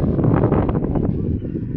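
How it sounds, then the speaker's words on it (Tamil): Steady wind blusters across a hilltop near rock caves outside Madurai, a full low rumble buffeting the microphone with no voices. "நல்ல காற்று, நல்ல கிளைமேட்டு"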